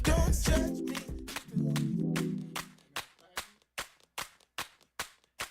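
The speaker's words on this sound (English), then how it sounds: "Get that hand clap" Sharp hand claps ring out in an even, steady rhythm, about eight distinct claps following a loud stretch of voice and tones at the start, each clap crisp and close.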